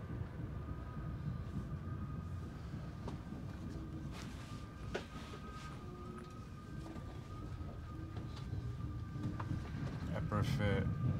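Quiet rumbling hum inside a moving train carriage travelling from the Czech Republic to Slovakia, with faint steady tones, occasional clicks and a soft rise in noise near the end.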